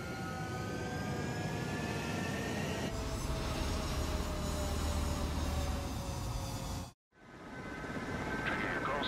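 Jet aircraft engines roar steadily in the Ace Combat 7 combat flight game during takeoff, a loud continuous rumble with rising whine tones that cuts out abruptly near the end before resuming.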